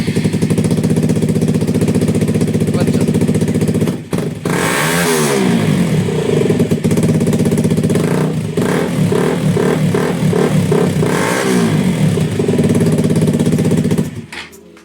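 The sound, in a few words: loud KTM RC motorcycle exhaust revving without dB killer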